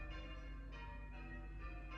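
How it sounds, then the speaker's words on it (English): Church bells ring continuously with a sustained, overlapping metallic tone and periodic strikes, heard faintly at a distance without any speech, during a knitting session. "these church bells are so annoying"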